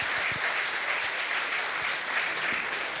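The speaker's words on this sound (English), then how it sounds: "Big round of applause for Vitalik." Sustained audience applause at a blockchain hackathon closing ceremony in Berlin, a dense steady wash of clapping that fills the whole stretch without pause.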